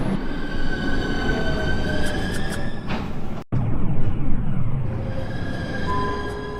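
An NYC Subway R142A train on the 4 line in the OpenBVE simulator game runs with a continuous loud rumble and high whining tones, dropping out briefly before resuming.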